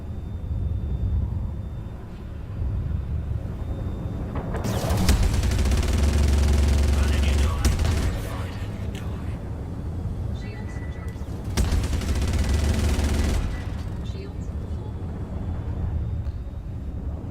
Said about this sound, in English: Now Gatling guns, like I said, they get hot fast, but they do a lot of damage.